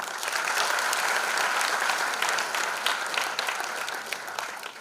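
Loud, sustained applause from a live audience for a band and a singer at a stage event, dense clapping holding steady for the whole span with a faint crowd murmur beneath.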